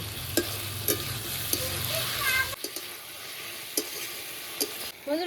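Malabar spinach frying and being stirred in a pan, with steady sizzling and sharp spatula scrapes and clinks recurring every second or so, close up, with a quieter stretch of sizzle midway.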